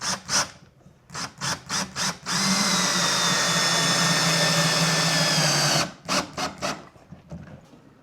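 Power drill fastening a fitting during a garage workout-space build, a few short trigger blips, then a steady loud run of about three and a half seconds, then more quick pulses.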